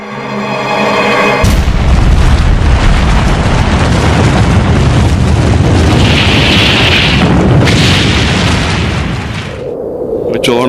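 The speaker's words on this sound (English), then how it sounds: "The first atomic bomb that was dropped here." The first atomic bomb dropped: after a quiet moment, an enormous blast erupts into a loud, sustained roaring rumble that fills about nine seconds before starting to fade away.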